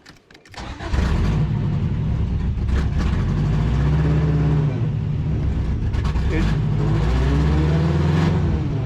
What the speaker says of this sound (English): It grinds the gears. And it kind of tries to move, but it can't.